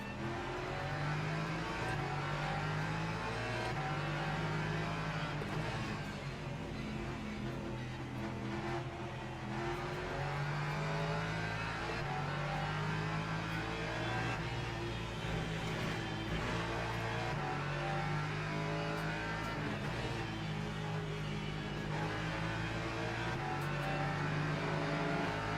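Lexus race car engine in the sim racing game Le Mans Ultimate, at an ELMS four-hour race at Barcelona, roaring steadily at high revs for the whole stretch, loud and close, with other cars blending into the dense engine drone.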